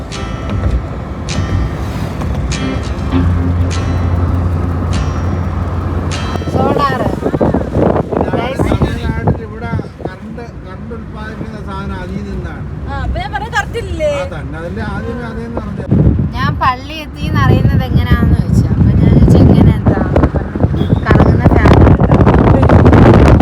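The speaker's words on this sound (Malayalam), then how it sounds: "നല്ല കാറ്റുണ്ട്" Wind buffets the microphone with rumbling gusts while people talk throughout, and vehicle noise rises toward the end.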